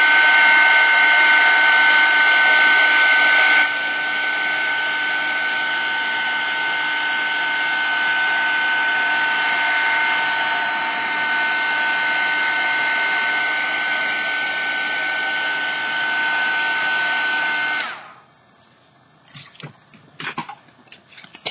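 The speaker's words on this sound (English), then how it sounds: "I'm going to dry this up again because you know what? I love it when I put the heat on" A heat tool blowing hot air to dry paint on an index card, a loud continuous whirring hum for about eighteen seconds that shifts slightly early on, then cuts off, followed by a few faint clicks and taps.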